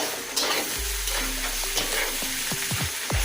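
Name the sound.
bitter gourd frying, being stirred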